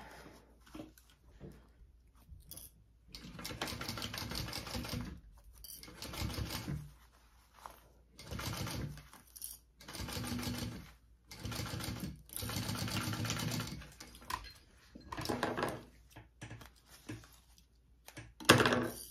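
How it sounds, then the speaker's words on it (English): A sewing machine stitches a seam on a crossbody bag in repeated close bursts of rapid whirring, separated by short quiet pauses, ending with a sharp knock. "So now you're gonna sew that at that full seam allowance."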